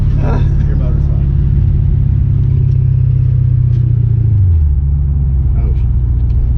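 A money-shifted new car's engine runs with a steady deep rumble, its pitch sinking slightly near the end, while people talk over it.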